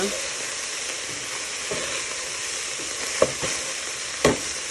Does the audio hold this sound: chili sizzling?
yes